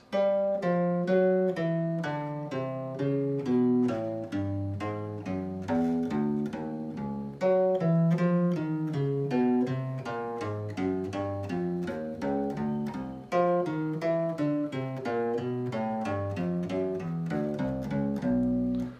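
A bass guitar plays a steady stream of evenly plucked single notes with alternating fingers in a repeating stepwise warm-up pattern, clear and close with no talking.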